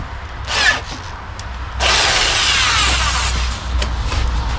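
A drill bores into a wooden anvil base, a short whirring burst early on followed by a sustained, fairly loud grinding run of about a second and a half, then a steadier drilling hum to the end, with no talking.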